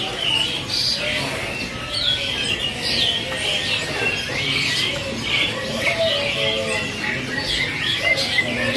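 Oriental magpie-robin (kacer) songbird calling steadily with varied squawks and chirps, fairly loud and continuous over a noisy background.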